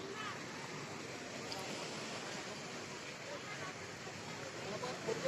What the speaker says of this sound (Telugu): వాటర్ ఫ్లో మాత్రం చాలా బాగున్నాయి ఫుల్ వాటర్ వస్తున్నాయి